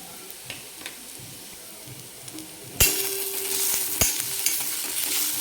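Onions frying in a pan with red chili powder and salt for a village-style egg chutney, a soft sizzle with spoon stirs before a louder burst of frying and clinking scrapes.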